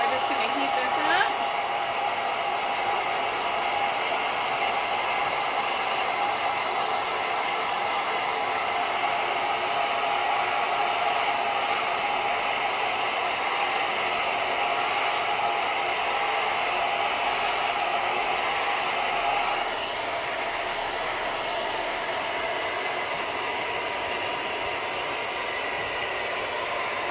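Steady, loud blowing roar of a heat gun or hair dryer heating the painted finish on a flatware storage chest, continuous for the whole stretch with a slight drop near the end.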